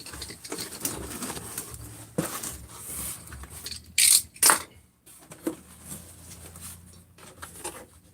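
Pigeons or doves cooing softly outdoors over a quiet background, broken by a couple of sharp, loud knocks midway.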